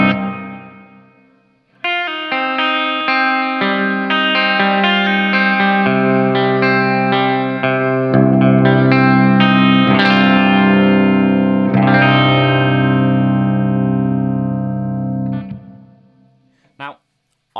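Sustained guitar chords through a Line 6 Helix hall reverb ring out with a lush, spacious reverb tail, notes blooming and overlapping before trailing off into a brief pause and a final pluck.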